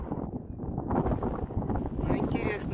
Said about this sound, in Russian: Ветер тут сильно просто в нашу сторону